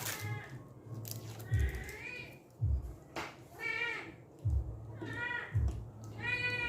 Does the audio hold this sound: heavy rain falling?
no